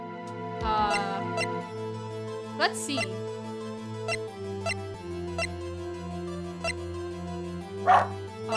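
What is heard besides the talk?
pet dog being noisy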